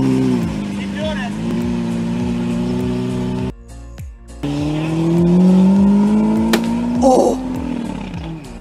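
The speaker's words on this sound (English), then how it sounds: "This Lamborghini is being very loud, as they usually are" Loud Lamborghini supercar engine roaring through city streets, a sustained close growl that revs up, dips briefly and surges again with some tire noise, while a voice talks over it.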